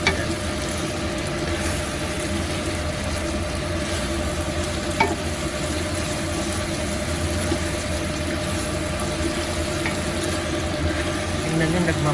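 Chicken sautés in hot oil in a pan for chicken afritada, giving a steady, close sizzle that runs unbroken throughout with a faint stir near the middle.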